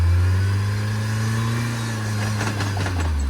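An off-road vehicle engine at an off-road park idles with a deep steady rumble, then the throttle bounces briefly near the end in quick revs, close and loud.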